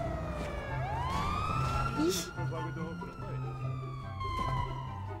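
Police car sirens wail past on a street, sweeping up and down in pitch as several patrol vehicles go by, with a person reacting with a short exclamation.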